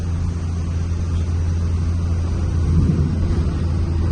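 A Cummins-swapped Sweptline pickup truck engine in fourth gear gives a low, steady drone with a deep rumble, holding strain without much change, close and fairly loud, no voices.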